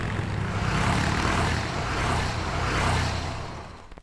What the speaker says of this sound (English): The car pulls up to a rickety cabin.